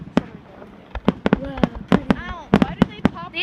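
A rapid string of sharp Fourth of July fireworks pops and crackles, several with whistling tones, loud and close, bursting irregularly.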